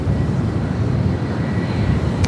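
Air France flight 23 to Paris takes off from LAX, a continuous heavy jet roar heard from a distance, steady and unbroken.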